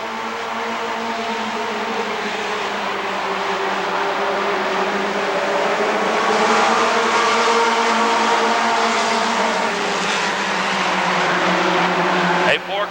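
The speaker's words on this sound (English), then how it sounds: "Car battle for the lead." Race cars roar around the oval at Rockford Speedway in a 2000 event, several engines droning steadily and continuously from mid-distance, with pitch rising and falling as the pack battles for the lead.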